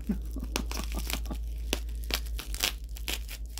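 Close, irregular crinkling and rustling of plastic packaging from an unboxing, in quick bursts with short pauses, with no one speaking.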